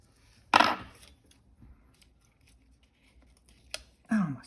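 Two sharp scissor snips, close and crisp, separated by quiet, with a faint small click in between.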